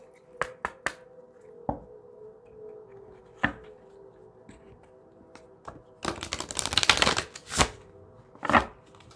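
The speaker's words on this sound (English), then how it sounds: "Like shuffle this deck. Shuffle again." A deck of tarot cards being shuffled: scattered crisp taps and slaps, then a dense riffle burst midway and a few final card knocks, close and fairly quiet with no talking.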